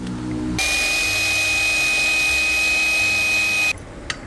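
A power drill whines steadily at high pitch for about three seconds, loud and close, then cuts off abruptly.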